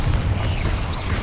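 A Confringo spell blast in a magic video game gives a short, heavy, low rumbling boom that stays loud for its whole brief length.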